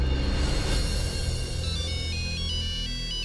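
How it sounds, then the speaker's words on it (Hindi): A mobile phone ringtone plays on its own, a steady electronic melody with bright repeating tones lasting a few seconds at moderate loudness. "माँ का फोन है।"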